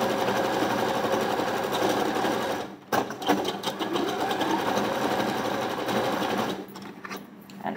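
A sewing machine backstitches a blouse armhole seam for a double stitch, humming loudly and steadily up close with a brief stop midway before carrying on.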